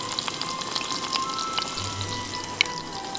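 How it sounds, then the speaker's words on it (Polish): Mushrooms sizzling in grape seed oil in a pan at a forest campsite, a steady close crackle and spatter with a few sharp pops, no voices. "No i wszystkie grzyby tutaj zaraz umieszczę. Stopniowo, oczywiście je mieszając, by mi tutaj nie przywarły."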